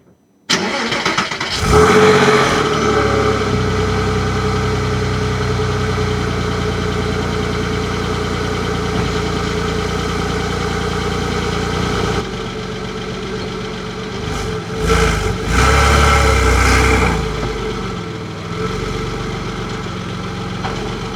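A Porsche Boxster S 986 engine runs steadily and close by during a test drive. The drone holds level for most of the clip, then shifts in tone and rises briefly near the end. No one speaks.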